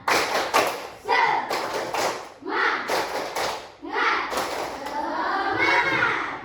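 Fifth-grade pupils in a classroom do a rhythmic clapping game in repeated bursts of claps, close and fairly loud, with children's voices and chanting between the clap groups.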